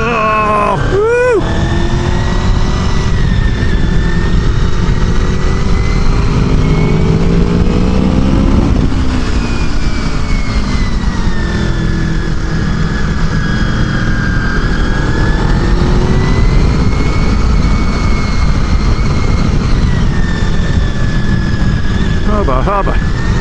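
A 1999 Honda VFR 800 motorcycle engine roars continuously at full throttle on a track, heard from the rider's position with pitch rising and falling through the gears amid heavy wind rush.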